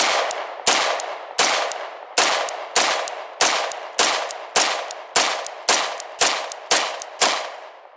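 An HK USP40 pistol fires a rapid string of about twelve sharp, loud shots at an even rhythm, each crack ringing off with a short decay, with no voices.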